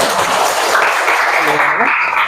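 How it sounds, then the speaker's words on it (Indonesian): A classroom of students clapping together in a brief, loud wash of applause, with voices audible over it toward the end. "Beri tepuk tangan untuk kita."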